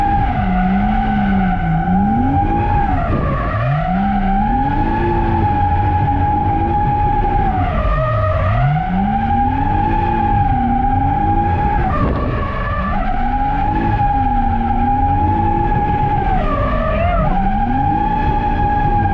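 A Toyota JZX100 drifting on a track, engine revving hard in rising and falling sweeps as its tires skid and squeal continuously, loud and close, with no talking.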